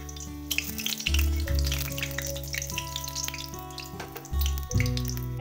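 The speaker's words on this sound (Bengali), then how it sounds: "এবার আমি দিয়ে দিচ্ছি গোটা জিরে ফোড়ন, আর সঙ্গে দিব 2টো শুকনো লঙ্কা আর দেবো একটা তেজপাতা" Whole cumin seeds, two dried red chillies and a bay leaf crackle and sizzle steadily in hot oil in a pan, a continuous close frying hiss with a low hum underneath and no talking.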